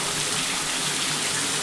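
Heavy rain pours down at night in a downpour during a stormy Gujarati village night, a dense, steady hiss of water with no break for the whole stretch, close and loud.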